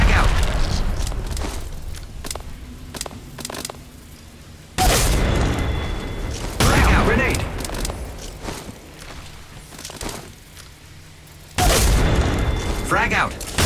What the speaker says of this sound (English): Arc star out.